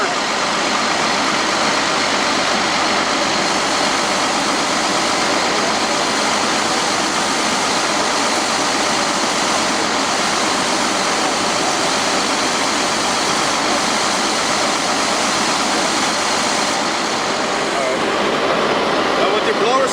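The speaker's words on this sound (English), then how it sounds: "Water into the tube so it cleans out the blower." Loud, steady rushing of water with a continuous broadband roar as a vacuum truck's blower is flushed with water, running together without pause.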